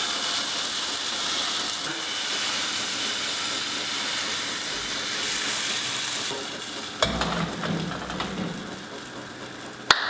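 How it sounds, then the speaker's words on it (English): Gluten-free sprouted flatbread batter sizzles and fries steadily in a hot pan, a continuous close hiss with occasional clinks and a brief rustle of handling near the end, no talking. "now I'll just continue cooking the rest of the batter"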